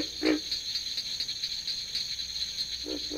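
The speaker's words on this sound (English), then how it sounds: "tree frog voices are very different in quality from those of the pig frog" A steady, shrill chorus of tree frog calls runs throughout at moderate volume, with two short, deeper croaks near the start and end.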